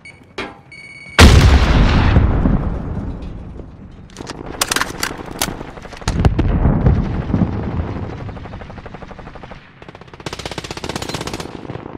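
Grenade blast and heavy gunfire in Call of Duty Warzone, a sudden loud boom followed by a long rumbling decay, then bursts of rapid automatic fire and sharp crackling shots.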